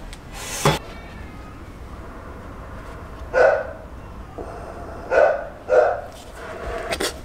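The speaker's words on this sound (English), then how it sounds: "The dog is barking." A dog barks a few times at irregular intervals, sharp single woofs separated by pauses over a low steady background.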